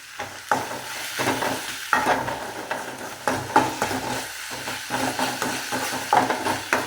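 Onion, green chili, ginger and curry leaves fry in coconut oil with mustard seeds for upma. Nearby spoon strokes stir them in an uneven rhythm over a continuous, moderate sizzle, and nobody speaks.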